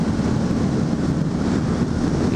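Strong coastal wind roars steadily against the microphone beside a road by the sea, a loud, continuous rumble with no break for the whole stretch.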